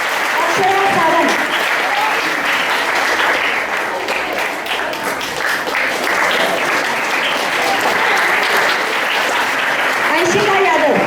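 An audience applauds loudly and continuously as students receive certificates at a Hindi Diwas celebration, with a speaker's voice heard over the clapping at the start and end.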